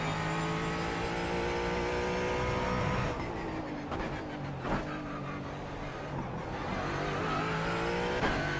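A race car in the iRacing sim with a steady engine drone that drops as it downshifts to first gear, the pitch falling and shifting in stages with brief revs, continuous and close with no speech.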